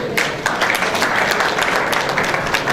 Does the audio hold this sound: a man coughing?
no